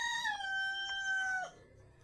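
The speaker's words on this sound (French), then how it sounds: "Ce coq me menace avec ces cris-là." A rooster crows once, loud and close, one long drawn-out call with a falling end, followed by a brief quiet tail.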